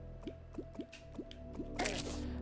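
A light splashing into liquid in the video game Terraria: a run of soft, bubbly drip-like plops, about six in a steady rhythm, over a low game hum, followed by a louder wet splash near the end.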